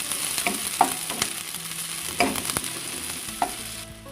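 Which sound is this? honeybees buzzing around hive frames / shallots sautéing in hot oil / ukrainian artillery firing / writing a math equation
shallots sautéing in hot oil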